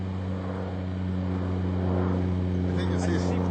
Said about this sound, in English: There's a plane going by below us.